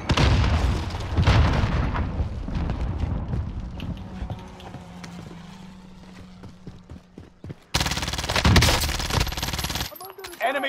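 Explosions and bursts of rapid gunfire in a Call of Duty Warzone match on Fortune's Keep, a heavy chaotic battle mix with a loud blast late on, sharp impacts throughout.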